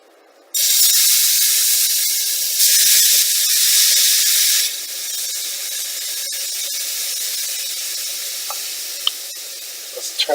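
Milk poured into a cooking flour roux for gravy bursts into a loud, steady sizzle and hiss that softens partway through and keeps bubbling close by, with a few small clicks near the end.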